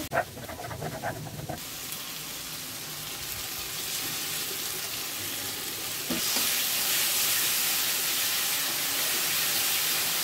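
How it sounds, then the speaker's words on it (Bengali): Mustard-poppy paste cooks with tomatoes in a pan for pomfret curry. A few clattering stirs open onto a steady close sizzle, which grows louder and brighter for the last few seconds. "দিয়ে 1 মিনিট মতো কষবো ভালো করে।"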